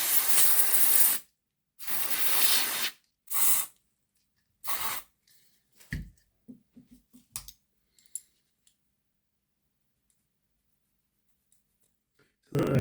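Aerosol cleaner is sprayed onto a Hornby Ivatt Class 2MT model locomotive chassis and axles in four short, loud hissing bursts, followed by small clicks and handling noises as the parts are worked.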